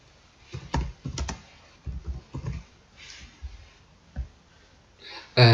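Computer keyboard keys are pressed in short irregular clusters to type a user name, fairly close, with pauses between keystrokes and a brief louder click near the end.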